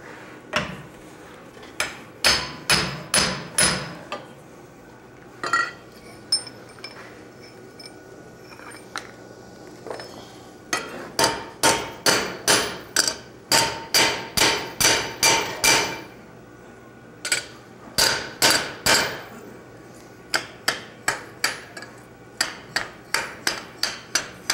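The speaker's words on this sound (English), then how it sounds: "forging a jackhammer bit out into some big old drift" Hammer blows forging a jackhammer bit into a large drift at a blacksmithing conference, bursts of rapid ringing metallic strikes separated by brief pauses, loud and close, with no talking.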